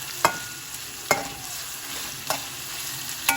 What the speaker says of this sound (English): Give it a bit of stir.